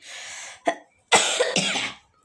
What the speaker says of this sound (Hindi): सॉरी फ्रेंड, डिस्टर्ब हो रहा खांसी की वजह से।